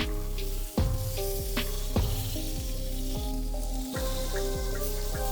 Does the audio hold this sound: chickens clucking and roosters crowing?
no